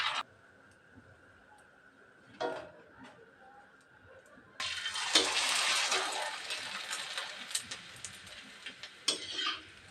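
Rice flour papad crackles faintly in hot oil at first, then bursts into a loud, busy sizzle as it puffs up, with small taps and scrapes from the utensil.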